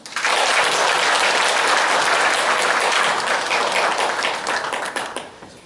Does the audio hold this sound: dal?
no